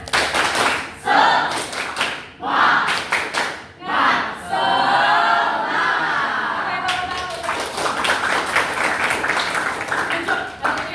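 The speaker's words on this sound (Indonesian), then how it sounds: "Coba kita cek semangatnya dengan tepuk semangat" Schoolchildren in an Islamic religious education class perform the tepuk semangat clapping chant, with bursts of rhythmic group claps broken by loud, sustained chanted voices, then a final run of fast clapping.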